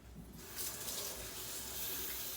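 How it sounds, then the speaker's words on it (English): Kitchen tap water running into a sink while hands are washed after mixing butter into scone dough, a steady, close hiss and splash that starts abruptly and continues without talk. "we'll wash our hands."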